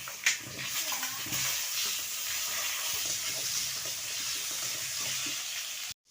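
Village kitchen frying of fish, a steady loud hiss and crackle of hot oil in a pan running almost unbroken before cutting off abruptly near the end.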